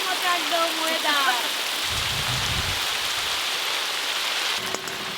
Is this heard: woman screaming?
no